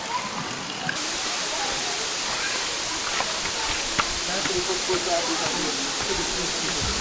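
Waterfall at Ubud, Bali, a steady broadband roar of falling water filling the scene at moderate level, with excited voices talking over it.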